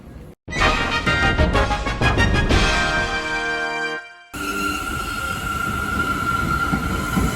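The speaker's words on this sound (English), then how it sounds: "A train heading to wherever it's going." A New York subway train rushes past loudly with rapid rhythmic wheel clatter and screeching metallic tones, cutting off abruptly as a steadier, noisy rumble and high whine take over.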